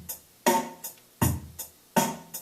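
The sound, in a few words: drum machine playing simple pattern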